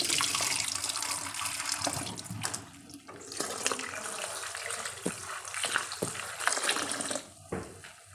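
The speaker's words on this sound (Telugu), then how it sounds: "రన్నింగ్ వాటర్లో బాగా నీళ్ళు వేసి కడగాలి" Running tap water splashing over crushed turkey berries being washed in a sink, a continuous loud gush with shifting splashes as the berries are rinsed by hand.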